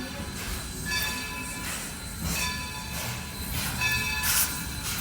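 A steam-hauled passenger train in Scranton, Pennsylvania rolls along with a steady rumble and rhythmic wheel and car noise, with faint squeals and a brief hiss near the end and no talking.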